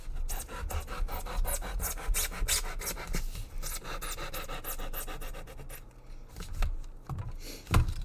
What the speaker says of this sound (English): follow the contour of your bit of foam and just cut that off